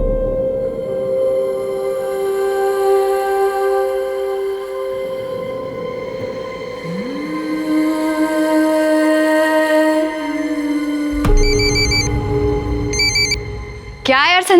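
A telephone rings in repeated electronic bursts, loud and near, layered over a dramatic musical score in a television crime drama scene.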